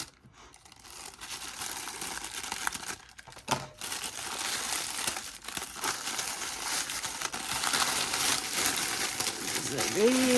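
Plastic packaging of a cross-stitch accessory being torn open by hand, giving continuous close crinkling and crumpling with ratchety rustles that build toward the end, while someone talks at times.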